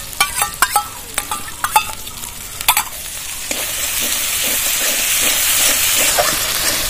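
Beaten sour yogurt poured into a frying masala of cashew paste and spices for a doi katla, starting with clinks of a spoon against the pan, then a rising steady sizzle with soft stirring scrapes.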